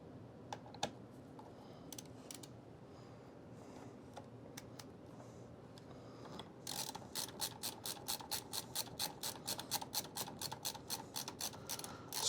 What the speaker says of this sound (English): this thumb screw will pick up with the LTD screwdriver